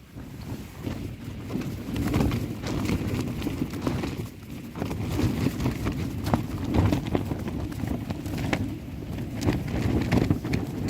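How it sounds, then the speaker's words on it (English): Strong wind gusts buffet a hilltop campsite with a tent, a steady rough rumble of wind noise with irregular flapping and thumping throughout. "The wind's picked up a bit."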